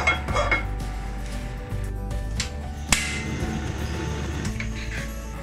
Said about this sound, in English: Then we'll take up a pot.